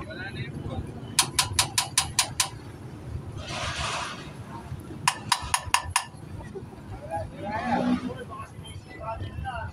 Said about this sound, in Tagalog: Ay, pinupukpok yung tanke mo.